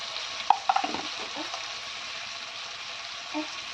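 Masala of chilli powder and kuzhambu powder fries in oil with sautéed tomato and onion for a field bean curry, giving a steady close sizzle with a few quick stirring clinks at the start.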